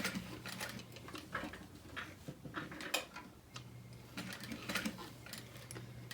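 A sewing machine back-stitching a handbag strap connector runs in short, quiet bursts of fast ticking stitches, stopping and restarting with a low motor hum beneath, with no talk.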